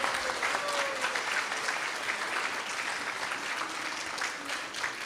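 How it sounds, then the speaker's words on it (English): A Sunday Feast gathering gives the cooks a big round of applause, with steady, dense clapping from a crowd continuing at an even level throughout. "So if we can get a big round of applause for all of them."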